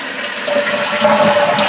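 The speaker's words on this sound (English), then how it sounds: "It's flushing." A household toilet flushes after its handle lever has been replaced, a close, steady rush of water swirling and draining through the bowl for a couple of seconds, alone without talk.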